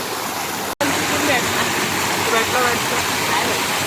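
Fast-flowing stream in monsoon flood, strong water pressure at a fish trap during first-rain fishing, a loud continuous rushing roar with a momentary cut near the start.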